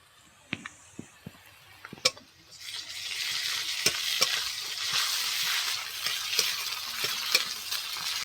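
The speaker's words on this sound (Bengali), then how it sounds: "আদা রসুন পেঁয়াজটা ভালো করে ভেজে নিয়েছি" Ginger, garlic and onion frying in a pan, a steady sizzle swelling after a few sharp utensil taps and scrapes, then continuing with occasional stirring clinks, close and moderately loud.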